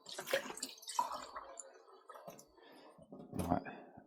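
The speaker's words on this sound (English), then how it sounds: "let's just pour some water" Water poured from a cup around a newly changed tap to check for leaks, with soft splashing and dripping, a few sharper drips and trickles near the end, and no talking.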